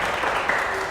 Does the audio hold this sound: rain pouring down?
no